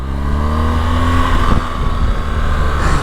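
A BMW R1200GS motorcycle engine revs steadily and loudly up close when a quick-shift is attempted on a bike without a quick shifter, the note holding high and continuous with no talking.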